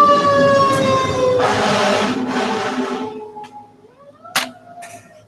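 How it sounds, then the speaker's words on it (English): A fire truck siren wails loudly nearby as the truck passes, its pitch sliding with a rumbling engine, then the siren fades and a couple of sharp blasts follow in the distance. "here comes the fire truck"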